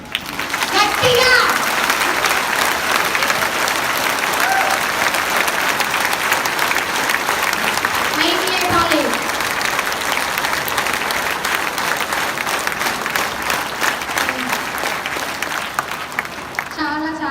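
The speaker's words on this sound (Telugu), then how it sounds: "ఒక్కసారి మీకోసం మీరు గట్టిగా 2 చేతులు పైకి లేపి క్లాప్స్ కొట్టండి గట్టిగా." A large audience claps loudly with hands raised, dense sustained applause running the whole stretch without a break, with a few children's voices and crowd chatter mixed in.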